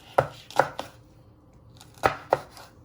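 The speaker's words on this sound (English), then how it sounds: "you just want to finely slice it into little pieces" A sharp knife slices pepper into small pieces on a board: five crisp chops, three quick ones, a pause, then two more, close and clear with no talk.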